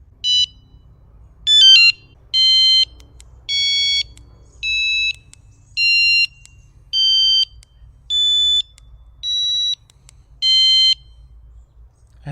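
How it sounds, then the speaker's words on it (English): A series of about ten loud electronic beep tones from an e-bike alarm, each lasting roughly half a second, stepping up a do-re-mi scale at a steady pace, clear and close. "they make sounds like do, re, mi, fa, sol, la, si."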